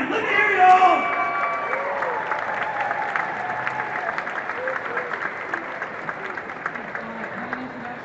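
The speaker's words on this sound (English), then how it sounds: "Round of applause for Louise Bellingham. Let me hear you all." Crowd applause at a Scotiabank Rat Race charity event for United Way at Scotia Plaza in Toronto, a loud burst of clapping and cheering that carries on steadily, with a voice speaking over the start.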